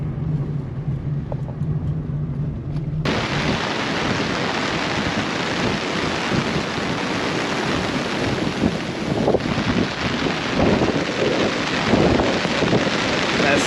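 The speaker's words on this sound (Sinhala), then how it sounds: "හොඳටම වැස්ස" Heavy rain pours down at a coastal beach on a road trip, a dense continuous hiss with gusty wind buffeting the microphone, loud and unbroken throughout, no voices.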